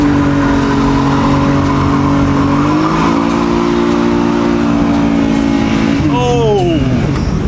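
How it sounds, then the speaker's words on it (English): An engine revving hard and holding high as a car does a burnout on a smoking, overheating engine, a loud continuous roar with a rising pitch that drops away near the end, with tyre squeal mixed in. "Should I just burn it out right here?"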